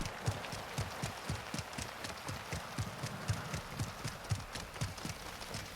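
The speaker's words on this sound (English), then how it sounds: "the footstep sounds are actually louder if you use PC than they are if you use home theater" Footsteps in Warzone 2.0 gameplay, a steady rhythm of quick thudding steps about two per second over a bed of hiss and ambient game noise, moderately loud and close.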